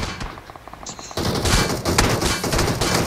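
Gunfire in the video game PUBG, with sharp gunshot cracks over a busy game soundscape that jumps louder partway through into a dense, continuous rattle of shots.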